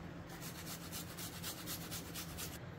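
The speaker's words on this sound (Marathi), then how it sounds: "आता आपण त्यामध्ये आलं किसून टाकूयात" Fresh ginger rubbed over a hand grater in a home kitchen, a steady run of about a dozen quick rasping strokes, soft and close, with no talking.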